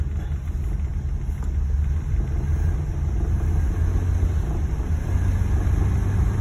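A 1950 Chevy engine running just after starting, a steady, loud, low rumble that continues evenly throughout.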